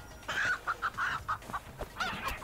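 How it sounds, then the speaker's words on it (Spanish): A chicken in the video game Moving Out clucks in a quick run of short, bright, evenly spaced clucks, then a couple more after a brief pause, clear and fairly close with no talk. "¡Es una gallina!"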